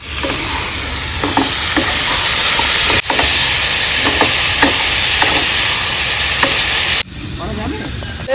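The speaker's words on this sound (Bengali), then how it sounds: "এবার আমি কুমড়োর শাকের ডাটাগুলো যে কেটে রেখেছি সেটা দিয়ে দিচ্ছি" Pumpkin stalks frying in a pan with slit green chillies give a loud, continuous close sizzle and hiss, broken by periodic scraping clicks of stirring and a brief lull near the end.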